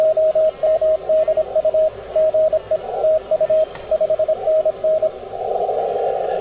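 Ham radio CW Morse code on the 20 m band comes through as a steady single-pitched tone keyed in quick dots and dashes over a hissy receiver background, ending in a longer burst of noisy tone.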